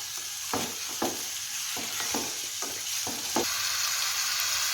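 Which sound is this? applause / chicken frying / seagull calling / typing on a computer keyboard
chicken frying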